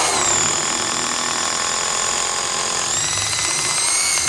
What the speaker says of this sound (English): So I'm running a 3/8 spade bit, and this really just walks right through it.